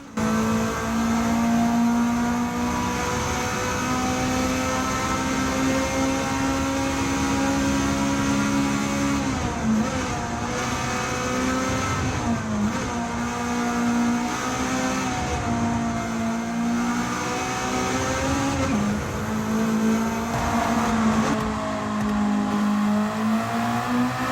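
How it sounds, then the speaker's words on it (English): A Volvo red block engine swapped into a car in Gran Turismo 7, revving continuously with a buzzy, rising and falling tone through gear changes, loud and close with no talk. "Also known as the red block engine, it sounds much more visceral than you might expect"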